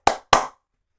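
Two sharp, close hand claps about a quarter second apart, each decaying quickly into silence.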